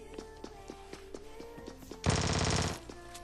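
A shotgun fires in a video game: one loud, dense blast lasting under a second, cutting over steady background music.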